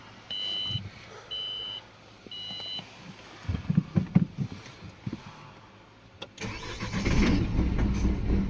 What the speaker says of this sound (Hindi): गाड़ी माइनस टेम्परेचर में हाफ सेल्फ में अभी स्टार्ट हो गई